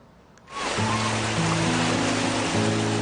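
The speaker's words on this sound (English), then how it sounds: "The vehicle proceeds slowly in the water." Vehicle moving slowly through flood water in a mountainous area of Haiti after Hurricane Sandy, a steady loud wash and splash of water with a low engine hum beneath, continuous from start.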